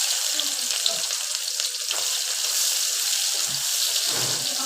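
Sliced onions hit hot oil in a pan already seasoned with panch phoron and sizzle loudly and steadily, a bright continuous frying hiss with a few soft stirring knocks.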